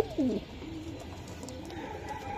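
A pigeon gives a short, clear coo at the start, then softer cooing continues under steady ambient noise at a market selling Budapest, Rampuri, racer and Pakistani pigeons.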